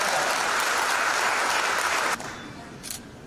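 Audience at a Bhopal book launch event claps steadily and loudly in a hall, dense continuous applause that cuts off abruptly near the end, leaving a faint room murmur with a brief trailing clap.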